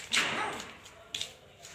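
A female dog that has just given birth at a cotton gin gives two short, high yelps or whines, the first a little louder, against a quiet background.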